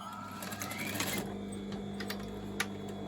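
A sewing machine stitches elastic into a pair of shorts, making a brief, fairly quiet mechanical whirr of rapid stitching that fades into soft handling sounds and a few small clicks.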